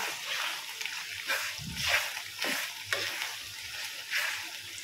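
Bagoong simmering in coconut milk with sugar is stirred in a pan: a steady, close bubbling sizzle with repeated scraping and splashing strokes, continuous throughout.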